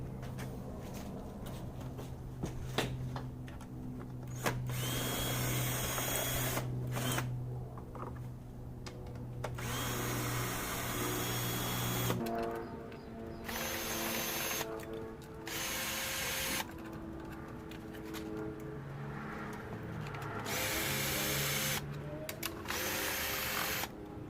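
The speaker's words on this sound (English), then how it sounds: "We're going to go ahead and get all of the bolts that are on the valve covers off" A power tool loosens the valve cover bolts on a Lexus SC300, with repeated close whirring bursts of varying pitch broken by short pauses.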